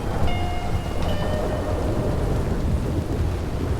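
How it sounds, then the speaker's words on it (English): Thunderstorm in the Red Dead Redemption roleplay game, with steady loud rain and a continuous low rumble of thunder filling the whole stretch, with no talking. "These storms are so loud."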